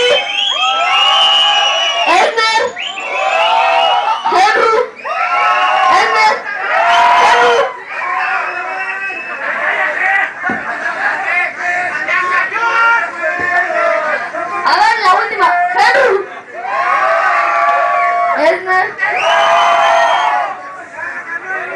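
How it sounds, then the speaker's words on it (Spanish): Rap battle audience cheering at length: loud whoops and shouts surge and drop over a constant babble of crowd voices, close and unbroken for the whole stretch. "Un aplauso para el Ender."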